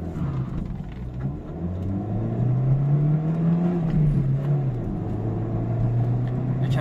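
A Peugeot 206 Type 5 car pulls away from a standstill, its engine note rising steadily through first gear and then dropping briefly at a quick upshift before climbing again, a loud continuous hum with road rumble and no talking.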